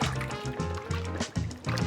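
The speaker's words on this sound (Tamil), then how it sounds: "தண்ணியில் போட்டாச்சா இப்போ வந்து கம்ப்ளீட்டாக மிக்ஸ் பண்ணுங்க" Laundry detergent being stirred into a basin of water for washing clothes, with steady sloshing and trickling swirls of liquid that rise and fall in short surges, close and fairly loud with no talking.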